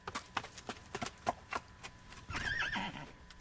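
Carthorses whinny and clop their hooves as a sound effect, several sharp hoof knocks at a steady walk leading into a loud, wavering neigh near the end, with no talking.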